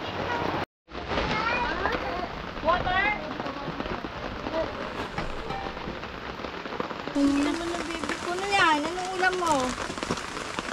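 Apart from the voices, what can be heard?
rain falling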